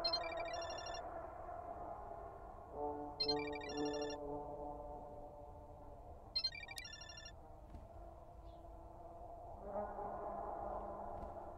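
Phone ringing in a Chilla's Art horror video game, three short electronic ring bursts spaced a few seconds apart over a low droning background, with no talk.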